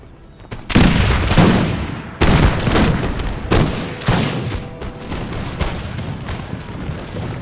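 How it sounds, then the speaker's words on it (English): Minutemen units in an American Revolution strategy game fire musket volleys. Several loud ragged bursts of gunfire crash in quick succession over a constant din of battle. "You can see the units in the back there also firing, greatly depleting their numbers as they flee."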